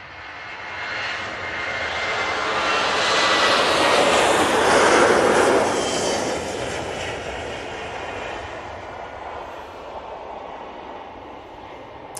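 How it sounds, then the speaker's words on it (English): A Ryanair Boeing 737-800 takes off at Manchester Airport, a broad jet roar swelling to a loud peak midway and then fading slowly as the aircraft climbs away, with no talk over it. "Ryanair 737, 800 now on the roll."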